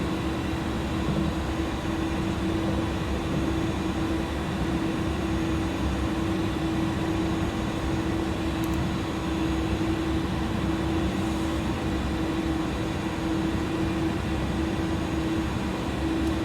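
A wide-body Airbus A300 taxis out toward the runway in a flight simulator, giving a steady, unchanging engine drone with a strong constant hum throughout and no talk.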